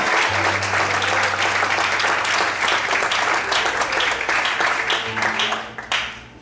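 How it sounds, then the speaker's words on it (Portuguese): A congregation at a church service claps in a loud, dense ovation that holds steady and then tapers off near the end, with a few voices calling out underneath. "Aplaude o Senhor!"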